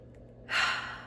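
One deep breath in through the nose, close and clear, rising sharply and then tapering off into a brief hush.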